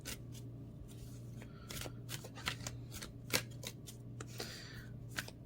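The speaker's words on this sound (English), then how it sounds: "as I'm shuffling, I'm looking at these cards" Tarot cards shuffled by hand at close range, a soft repeated riffling and slapping of card stock in quick irregular bursts over a quiet steady low hum.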